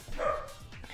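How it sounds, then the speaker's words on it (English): Dogs barking in the background at home: a couple of short, muffled barks and yips, fairly faint. "Sorry if you hear my dogs barking in the background."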